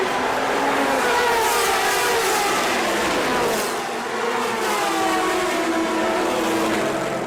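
A pack of race cars roars away at the start of the 70th 24 Hours of Le Mans in 2002, with the leading Audi R8s in the field. Dense, continuous engine noise holds steady and loud, with no talk.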